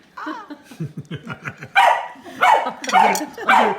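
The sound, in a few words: dogs barking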